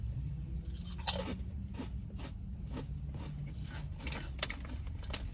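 Sour cream and cheddar Ruffles-style chips crunch in close, loud bites, with several distinct crunches spread over a few seconds of chewing.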